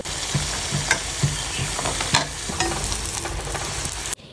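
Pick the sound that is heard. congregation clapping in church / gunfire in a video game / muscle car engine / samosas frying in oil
samosas frying in oil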